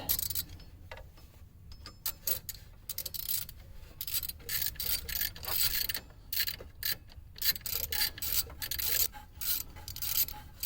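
A ratchet tightening a bolt near the VVT solenoid on a Trailblazer 4.2L engine, with bursts of quick clicking and metallic rubbing, close up, in irregular runs with short pauses and no talk.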